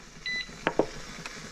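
A pressure canner gives a short electronic beep while heating turkey for canning, a single steady tone held for a fraction of a second, followed by a few faint clicks and taps nearby.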